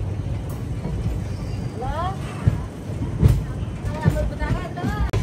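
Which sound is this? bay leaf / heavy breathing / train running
train running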